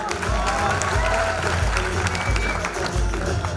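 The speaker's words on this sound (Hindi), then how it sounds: "सो एक बार जोरदार ताली मिस्टर राणा सर के लिए होना चाहिए" At a recognition program event in Indore, an indoor audience claps loudly and continuously for an honoured guest, a thick steady wash of applause with faint crowd murmur.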